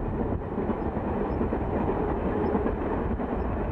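A train rumbling steadily along the rails on the Alps line near the Durance and Buëch valleys in Provence, a continuous low roar with faint rhythmic clatter, close and loud throughout.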